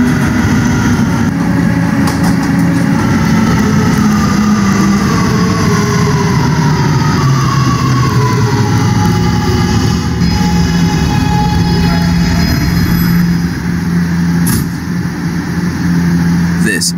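An R211 subway car running on the R train, a loud steady rumble and drone of motors and wheels on track, with whining tones rising and falling as it rolls along.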